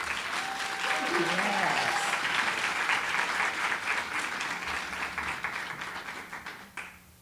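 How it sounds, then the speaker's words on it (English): Audience applause at a college Juneteenth celebration, loud sustained clapping from a crowd that slowly thins out toward the end, with a voice speaking over it. "So let's give a round of applause"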